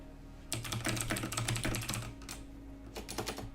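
Rapid keystrokes on a computer keyboard form a close, busy clatter for about a second and a half, then thin out into a few scattered taps and a final short burst, with no voices.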